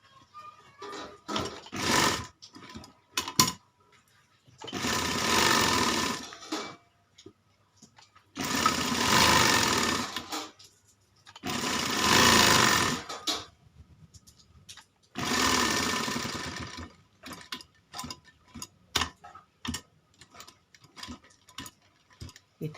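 Sewing machine stitching a child's kalidar kurta: loud close bursts of rapid mechanical whirring, four long runs of several seconds each, separated by pauses with scattered clicks and short stitch bursts.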